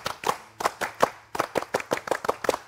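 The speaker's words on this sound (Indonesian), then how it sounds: "Tepuk pramuka." A group performs the rhythmic scout clap, sharp synchronized hand claps in a patterned sequence with short pauses between groups of beats, crisp and fairly close.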